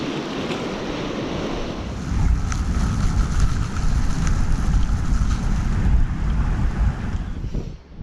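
Wind gusts and turbulent surf wash against the shore during a bright, windy day of bass lure fishing, a steady roar that builds louder partway through with no voices.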